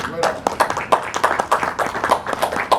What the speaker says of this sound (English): You guys deserve a round of applause, in my opinion.